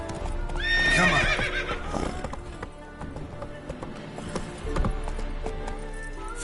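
The horse Roach gallops in a video game, a quick steady clip-clop of hooves, with a loud whinny near the start over the running rhythm.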